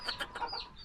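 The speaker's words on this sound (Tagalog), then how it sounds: "may manok pa dito" A chicken clucks aboard a small plywood service boat, a quick run of close, fairly soft clucks in an uneven rhythm.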